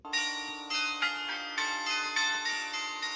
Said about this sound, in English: The bells in this church are outside and we happened to cross it just as they started ringing.